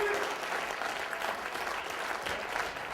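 An audience applauds steadily at a college elevator pitch competition, a dense, continuous wash of clapping from a crowd that holds a fairly even level through to the end.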